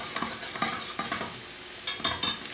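Tomato paste cooking in a pan gives a soft sizzle punctuated by a few quick stirring scrapes and taps, close and fairly quiet, with no voices.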